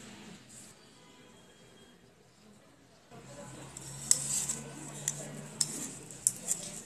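Daikon radish peeled with a hand peeler in a kitchen, a soft scraping rasp joined by several light clicks and scrapes, beginning after a quiet stretch, moderately close and fairly faint.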